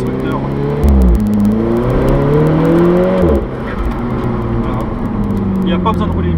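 Four-cylinder sports car engine and exhaust, a track-developed road-legal car, heard from inside the cabin with windows closed; a loud, steady droning note that rises and falls in pitch with a sudden drop around three seconds.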